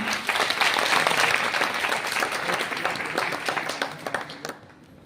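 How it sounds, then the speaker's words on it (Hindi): Audience applause at a motivational seminar, dense and loud clapping from a crowd, holding steady for several seconds before thinning out and fading near the end. "चलिए एक बार अपने लिए जोरदार तालियां"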